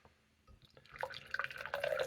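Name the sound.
pouring Guinness and Northern Monk beer from cans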